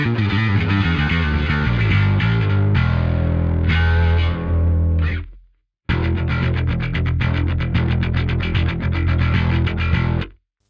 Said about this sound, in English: Next up, we've got mid-gain mushiness.